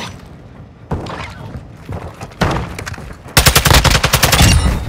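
Small-calibre gunfire in the Call of Duty Warzone battle on Ashika Island: scattered single shots early on, then a loud, rapid sustained burst of automatic fire near the end.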